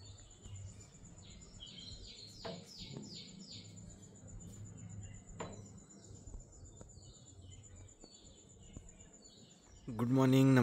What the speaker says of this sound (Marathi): जर पक्ष्यांचा आवाज येतो आहे का.